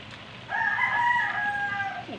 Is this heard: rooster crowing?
yes